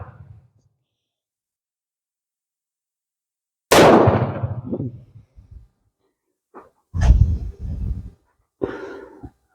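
A surplus .32 pistol firing light-powdered reloads: one sharp, loud crack with a short echoing tail, then a few softer bursts spaced over several seconds, with no talking.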